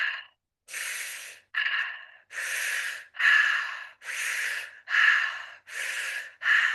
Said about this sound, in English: meet it with the same level of intensity within how you're breathing in